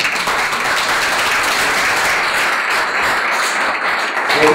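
An audience at a Know Your Rights workshop gives a round of applause to a visiting reverend, loud, dense clapping from many hands that stays thick and continuous throughout.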